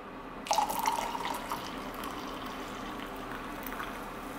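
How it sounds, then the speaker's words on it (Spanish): Hot water pours into a cup to finish a morning tea, a close splashing stream that starts abruptly, then settles into a softer trickle and fizzing bubbles as the cup fills. "Y luego terminamos de agregar el agua."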